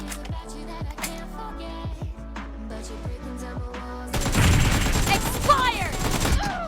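Rapid AKM gunfire in a PUBG Mobile team deathmatch bursts out loud and dense in the second half, after a lighter stretch of game sounds, with players talking over it.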